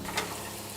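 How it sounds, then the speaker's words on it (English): Short burst of onions sizzling in a hot frying pan, with a brief louder crackle near the start, then a steady soft hiss, with no voices. "put some garlic powder and turmeric on top of this sizzling onion"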